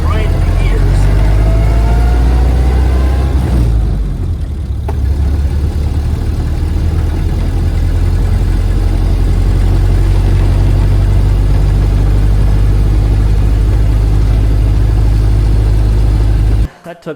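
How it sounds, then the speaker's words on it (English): A 1901 Oldsmobile with a straight-tube transmission runs steadily while being shifted down through its gears, giving a loud, continuous low engine chug with a brief dip partway through. It runs alone with no talk. "So I'm downshifting, going through the gears just to show you that you can shift a straight tube transmission up right in the gears."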